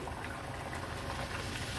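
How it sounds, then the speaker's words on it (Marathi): Puri frying in hot oil in a kadhai, a faint continuous bubbling hiss that stays even throughout. "एक पुरी काढली का लगेचच दुसरी पुरी तेलात सोडायची आहे"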